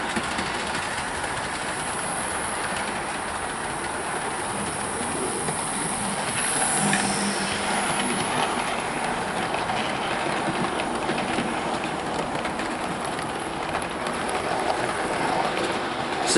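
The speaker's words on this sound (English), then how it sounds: "I'm running the first train over these new boards during the first stage of the new tunnel" An A4 Golden Eagle model railway locomotive hauls maroon coaches over new baseboards near a tunnel, producing a continuous close rolling rumble with faint rail clatter and hiss that stays steady throughout.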